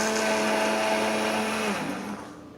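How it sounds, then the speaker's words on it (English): An electric blender whirs loudly while blending homemade hair lotion, a steady high-pitched motor whine that drops in pitch and slows toward the end as it winds down. "So I have to remember to turn off the blender when I lift it up to check."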